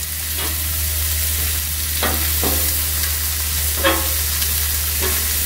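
Bratwurst meat frying in a pan, broken apart with tongs, gives a steady close sizzle with a low hum beneath it and a few sharp scraping clicks from the tongs.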